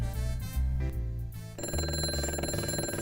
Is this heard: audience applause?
no